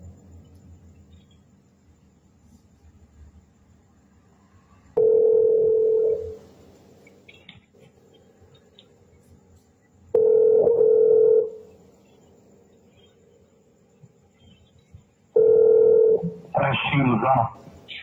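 Over a quiet phone line, three short bursts of telephone keypad tones sound at evenly spaced intervals, each a clear steady beep, the last followed by a brief warbling tone.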